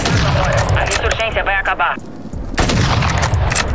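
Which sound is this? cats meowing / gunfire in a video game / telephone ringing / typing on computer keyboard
gunfire in a video game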